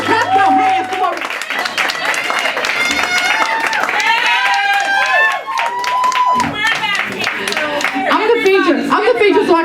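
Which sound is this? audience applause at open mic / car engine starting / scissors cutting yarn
audience applause at open mic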